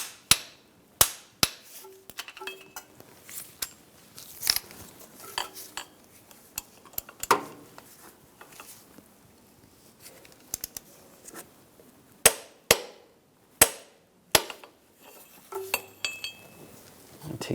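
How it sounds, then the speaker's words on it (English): Sharp metallic clicks and clanks from tightening the starter bolts on a 2006-2009 Mercedes-Benz E350 with a torque wrench, a dozen or so close, loud ticks spread unevenly over a quiet background. "get the torque wrench out. And torque those bolts to 30 foot-pounds"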